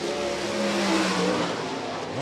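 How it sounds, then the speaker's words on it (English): Several 305 sprint cars roar around a dirt oval during a heat race at Rapid Speedway, engines droning loud and steady with overlapping pitches that rise and fall as the field passes. "Final lap, final heat race. Heartland Steel 305 sprint cars."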